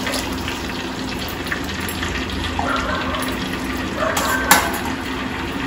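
Tamarind water pouring and splashing into a clay pot for fish curry, a steady gushing flow with light stirring and sizzling underneath, close by.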